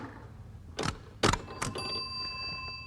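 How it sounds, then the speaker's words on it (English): Several sharp mechanical clacks from a Hollerith census tabulating machine are followed by a single bright bell ring that sustains and slowly fades, fairly quiet and without speech. "And the bell told you you'd done it."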